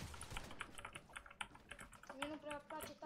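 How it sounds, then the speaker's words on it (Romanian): Rapid clicking keystrokes on a computer keyboard, close and steady, with a voice talking over the typing. "Numai tastatura sună cel mai..."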